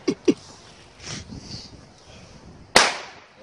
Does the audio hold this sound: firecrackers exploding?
yes